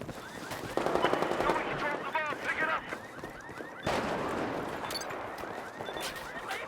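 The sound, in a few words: machine gun fire in video game Battlefield 4 beta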